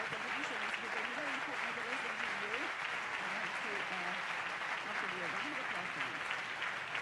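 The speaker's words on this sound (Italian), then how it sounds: "Ringraziamolo con un applauso" An audience applauds steadily, a dense wash of many hands, at a live political event, Atreju 2021, with voices mixed into the clapping throughout.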